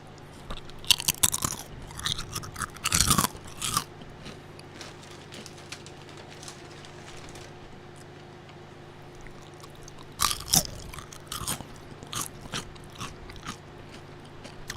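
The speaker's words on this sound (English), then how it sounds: "listen to the crunch of the potato chips" Potato chips crunched and chewed close to the mic in a quiet room, with two dense bursts of crisp crunching separated by a long stretch of low background hum and a few faint clicks.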